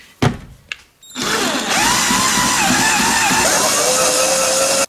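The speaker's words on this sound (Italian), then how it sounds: "Stacchiamo qui e trapaniamo" A power drill bores out rivets in a VW Tiguan door panel. A couple of sharp knocks come first, then a loud, sustained, grinding whine runs nearly four seconds close to the microphone and cuts off at the end.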